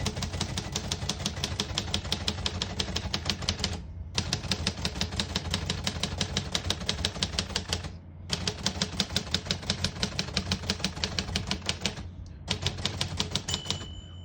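Rapid, crisp key strikes on a 1956 Royal Quiet De Luxe portable typewriter, typed in steady bursts of several seconds broken by brief pauses, close and clear, with a faint bell-like ring near the end.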